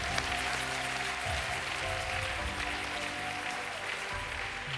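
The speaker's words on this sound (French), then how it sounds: "Applaudis très bien le Seigneur des Seigneurs." A church congregation at a worship service applauds in a continuous, dense patter of clapping, with low sustained music tones running underneath throughout.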